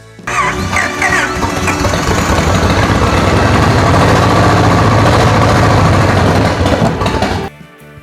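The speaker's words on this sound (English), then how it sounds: "I got this old engine roaring again." A 1946 Plymouth P15's engine runs loud and steady for several seconds, rough and mechanical with a rumbling low end, then cuts off abruptly near the end.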